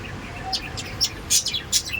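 Pet birds chirping during rain on a cloudy afternoon, giving a quick run of high, sharp tweets over a soft background hiss.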